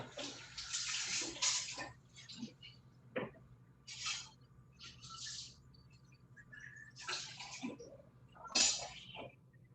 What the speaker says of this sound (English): I'm going to wash my knife, wash my hands so I don't cross-contaminate.